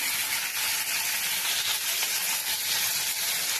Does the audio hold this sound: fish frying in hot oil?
yes